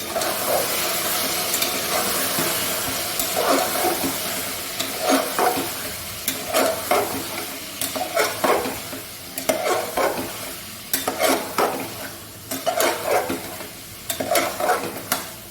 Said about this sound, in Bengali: ভালো করে মশলাটা কষিয়ে নেব